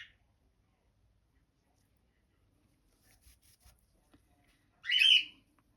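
Birds outdoors give a few faint, quick chirps, then one loud, harsh squawk near the end, set against near silence.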